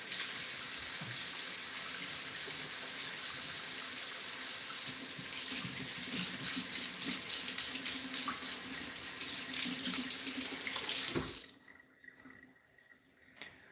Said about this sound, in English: Okay, wash my hands.